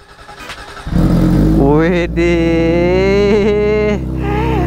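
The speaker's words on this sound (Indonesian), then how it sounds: "Kita panasin dulu motornya." A motorbike engine starts with a surge and settles into a steady, loud warm-up idle with a rising and falling rev. A voice exclaims over the engine.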